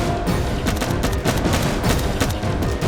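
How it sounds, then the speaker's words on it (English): Automatic weapon fire during a police shootout, a dense, continuous burst of rapid gunshots at up to 600 rounds per minute, loud and harsh throughout with no pauses. "The police realized they were outgunned by a weapon which could fire up to 600 rounds per minute."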